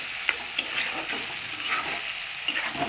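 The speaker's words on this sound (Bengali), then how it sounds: "আলুটা ভালো করে ভাজবো" Potatoes frying with onion, turmeric and salt in a pan, a steady close hiss with a few soft scrapes of stirring throughout.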